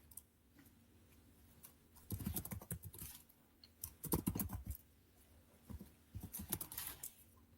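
Fingers type on a computer keyboard in three bursts of quick, soft key clicks separated by short pauses, quiet and close, with no talking.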